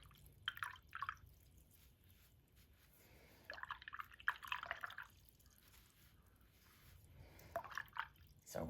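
A paintbrush being swished and rinsed in a cup of water, giving faint, small sloshing and dripping bursts that come and go with quiet pauses between.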